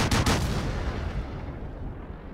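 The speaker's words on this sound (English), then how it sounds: "You just spam the enemy with lots of bullets." Rapid machine gun fire from a light tank in World of Tanks, a dense continuous rattle of bullets loud and close, with the first shots sharpest and a steady stream following.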